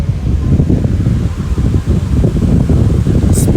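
A large mechanical fan runs at full power, giving a loud, steady low whoosh of moving air with a rough, fluttering texture and no voices.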